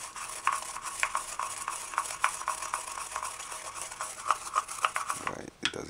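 A hand herb grinder working on rosemary makes a steady patter of small clicks and scratchy grinding strokes. Each crunch is light and close, and the sequence ends with a short clatter and no speech.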